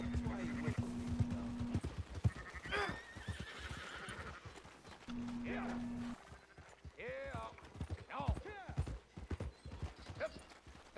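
Horse hooves clip-clop in the video game Red Dead Redemption 2, irregular close hoofbeats mixed with neighing and whinnying, under voices talking, with sustained tonal hums in the background.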